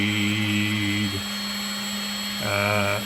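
A lathe fitted with a CNC-machined leadscrew runs with a steady motor whine and gearing hum, dipping briefly as the speed is brought back down, then rising again near the end.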